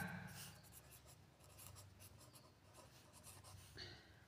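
A pen or pencil writes out an exponent math equation, with soft, faint scratching strokes continuing steadily for a few seconds and no voices.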